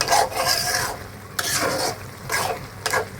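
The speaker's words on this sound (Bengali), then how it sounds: "এখন আমি দিচ্ছি, কষিয়ে আনছি, আর একটু জল দিব।" Spice masala and lentils are stirred and fried in a pan, producing bursts of scraping and sizzling strokes that come and go in an uneven rhythm, close and fairly loud, with no talking.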